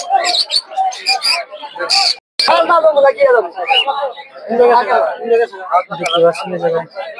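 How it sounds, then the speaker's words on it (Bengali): Australian doves at a bird and pigeon market, their soft cooing mixed with chirps from other birds while people talk loudly nearby throughout. "অস্ট্রেলিয়ান ঘুঘু"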